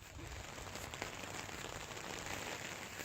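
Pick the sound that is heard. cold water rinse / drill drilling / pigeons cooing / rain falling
rain falling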